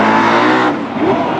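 A wheelstanding race car at a power wheelstanding championship roars loudly and continuously for about a second and a half, its engine note shifting midway as if the car slews or lifts.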